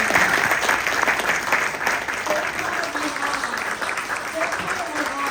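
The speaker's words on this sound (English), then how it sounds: "please, please applaud these amazing candidates" An audience at a Republican Party of Bexar County candidate forum applauds the candidates, a dense and steady clapping that holds for the whole stretch, with a voice speaking briefly over it.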